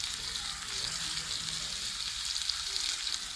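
Pickle spice masala with fennel hits hot oil, giving a steady, hissing sizzle that stays even and close throughout.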